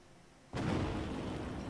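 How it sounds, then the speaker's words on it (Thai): A nuclear bomb detonates in the strategy game Hearts of Iron IV, a sudden loud boom that bursts out after near-silence and holds as a heavy, sustained roar. "นี่ก็คือขั้นตอนของการทิ้งระเบิดนิวเคลียร์"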